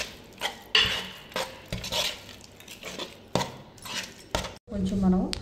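Boiled gongura leaves being mixed into a red chili chutney for pachadi: repeated scraping and clinking of a utensil against a bowl, in uneven strokes, close by, with a voice talking over it.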